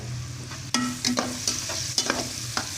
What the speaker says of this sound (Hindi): ये ज़ीरा भी इसमें अच्छी तरह भून जाएगा